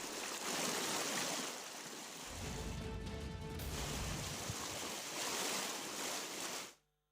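Floodwater rushing through a street in Itanagar, a broad, steady roar of turbulent flowing water that stays loud and continuous throughout before cutting off abruptly at the end.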